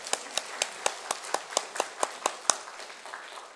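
A church congregation claps in unison, a steady beat of about a dozen sharp, evenly spaced claps that then stops, with little else heard around it.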